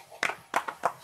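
A few scattered hand claps from a stand-up comedy audience, about four separate sharp claps spaced unevenly, sparse and fairly quiet in a hall.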